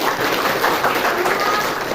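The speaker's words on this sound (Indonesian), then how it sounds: "Masya Allah, tepuk tangan dulu" Audience applause fills a classroom or gathering, a steady dense patter of many hands clapping for the full couple of seconds, close and fairly loud.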